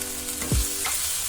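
Chopped okra sizzles in a hot pan while a spoon scrapes and stirs through it, a short burst of dense frying crackle with a quick swishing stroke in the middle. No voices.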